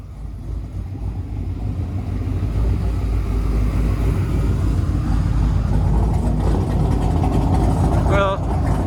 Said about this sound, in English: Well, that's a nice lope, but it's not a big lope.